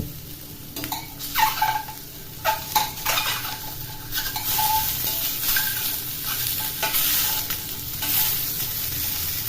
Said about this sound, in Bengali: ডিমগুলি প্যানের মধ্যে দিয়ে দিলাম উল্টিয়ে দেব এখন লো ফ্লেমে আছে এখন ডিমগুলি উল্টিয়ে দেব